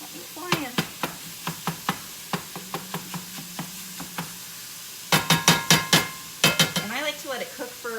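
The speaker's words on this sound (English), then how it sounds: "So I'm just gonna use my mix and chop." Ground turkey being broken apart in a hot pan with a mix and chop tool for chipotle turkey tacos, a run of crisp knocking taps, then louder scraping clatters near the end, with a voice speaking partway through.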